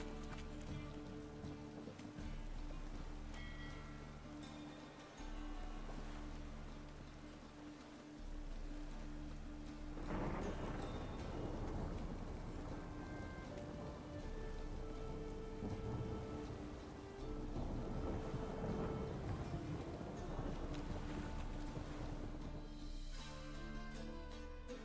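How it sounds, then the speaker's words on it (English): Heavy rain and storm wind lash the open sea in a video game, a steady dense roar that swells louder partway through with rumbling thunder underneath, continuous and close with no voices. "Storm, damn it."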